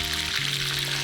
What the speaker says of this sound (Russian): Вроде как жарим утку